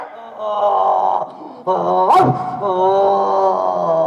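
A stage actor in a Tamil village drama imitates a dog with a voice, giving sustained whiny growls and a sharp yelping rise near the middle, loud and close, with no words spoken.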